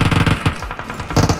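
A P90 submachine gun with its round satellite-dish-shaped magazine fires rapid bursts in PUBG Mobile, loud close rattling shots in quick rhythmic clusters with a brief pause before a final burst.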